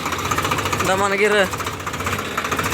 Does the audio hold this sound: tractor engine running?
yes